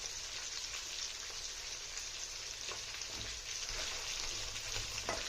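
Tomatoes and green chillies frying in oil over low heat for Peshawari charsi chicken karahi, a soft, steady crackling sizzle with occasional pops, quiet and without voices.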